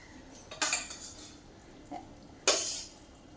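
Eggplant and hilsa fish going into a simmering pot of thin fish curry with nigella seeds, heard as two brief clattering spoon-and-pot knocks a couple of seconds apart over a quiet background.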